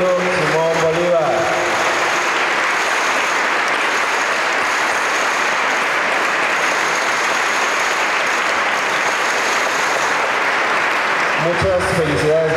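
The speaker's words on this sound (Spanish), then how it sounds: "Les pido un fuerte aplauso para la generación" A school graduation ceremony crowd applauds the graduating class in a loud, sustained burst of clapping lasting about ten seconds, with a voice speaking briefly before and after.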